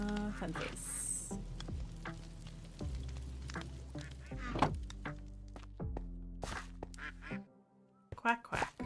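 Ducks quack in modded Minecraft, with several short nasal quacks scattered among blocky in-game clicks, thumps and placement sounds, while a person talks throughout.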